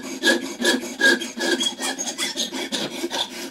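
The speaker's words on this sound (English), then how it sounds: "I don't want to sand it flat on top" A bone acoustic guitar saddle is sanded on a block in quick, rhythmic back-and-forth rasping strokes, close and clear with no speech.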